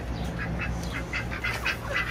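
A duck quacking close by in a snowy winter yard, a quick series of repeated nasal quacks over about two seconds with no talking.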